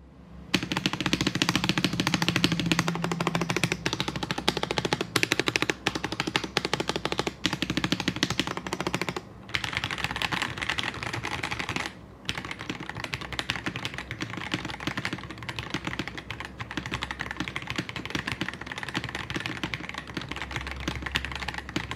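Rapid continuous typing on a Press Play Apollo61 Lite 60% keyboard with clicky switches, dense sharp clacks close up and loud, with a couple of brief pauses and no talking.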